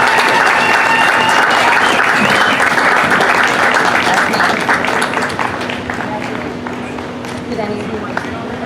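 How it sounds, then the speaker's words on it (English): Sustained, loud crowd applause for 4-H youngsters during opening day ceremonies at the Ulster County Fair, dense clapping holding steady for several seconds before thinning slightly toward the end. "Can we get another great big round of applause for these kids?"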